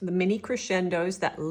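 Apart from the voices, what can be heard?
No everyday noise stands out behind the speech.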